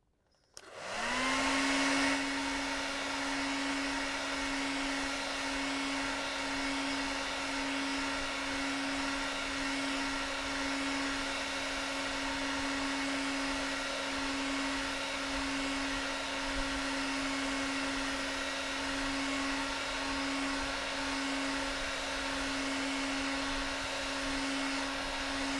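A hair dryer blows hot air across a watercolor landscape painting, starting abruptly and then running as a steady, loud whir with a constant hum for the rest of the stretch, with no voices over it.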